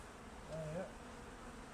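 Honeybees buzz around a beekeeper at an open hive in Rosanna, a steady close drone that swells briefly as one bee passes near, with no talking.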